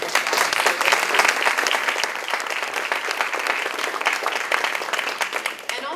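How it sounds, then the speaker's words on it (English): Audience at a college institute event breaks into a dense, sustained round of applause, loud and even throughout with no pauses. "I'd love for you guys to give them a round of applause"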